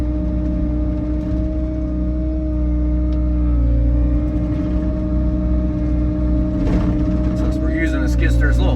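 A skid steer loader's engine drones steadily nearby at a constant low pitch while packing soft ground at a work site, with faint rattles rising toward the end.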